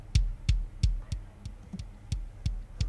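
An over-compressed kick drum through a compressor: eight punchy, close thumps at a steady, slightly uneven pace, each with a sharp click on top and a short, flattened boom below.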